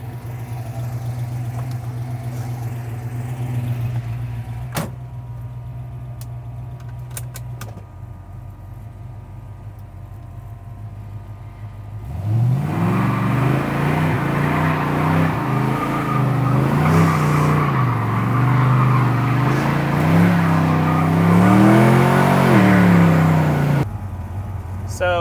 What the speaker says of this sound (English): I'm going to give it some revs so you can hear it,